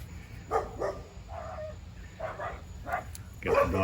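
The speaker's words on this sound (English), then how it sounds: "Got the dogs barking in the background." Dogs barking somewhere in the background while antique saw blades are unboxed, scattered short barks at a moderate distance, mixed with low voices and handling noise.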